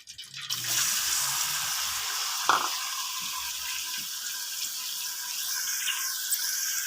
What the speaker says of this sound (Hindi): प्याज जो है हमने डाल दिए, इसको ब्राउन तक फ्राई कर लेंगे